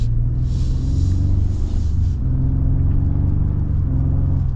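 A 2024 Ford Expedition XLT accelerating, heard as a steady, loud low engine rumble and whir from inside the cabin, building smoothly with no talking.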